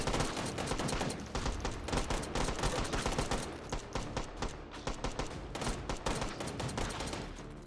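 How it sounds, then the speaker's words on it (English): Dense, rapid gunfire from a pistol in the VR shooter H3VR, loud sustained bursts of shots rattling nearly continuously with only brief gaps, no talk over it. "That's a lot of rounds down range"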